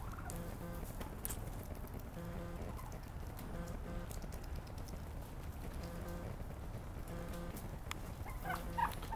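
Free-range turkeys gobble in repeated bursts inside a greenhouse, several birds calling over a constant background patter and hum, fairly close and loud.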